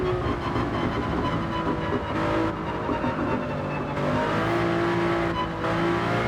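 A Toyota Supra race car in Gran Turismo 7 drones steadily at high revs as it runs over the curbs, its engine note shifting slightly as it accelerates, loud and continuous with no talking.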